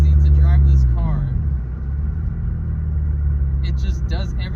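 Engine hum and road rumble from a 9th gen Honda Civic Si being driven, a steady low drone inside the car with someone talking over it at the start and end.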